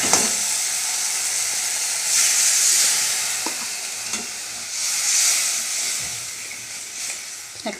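Water poured onto vegetables frying in a hot pan, including cauliflower pieces, bursts into a loud, close hissing sizzle that swells twice with steam, while a utensil taps and scrapes the pan.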